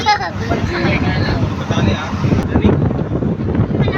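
Strong wind buffets the microphone with a continuous low rumble, while people talk faintly underneath.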